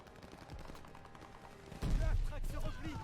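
Machine gun fire from the Call of Duty: Vanguard video game, a short rattle of bursts under faint voices, then a louder heavy blast of fire and rumble taking over in the second half.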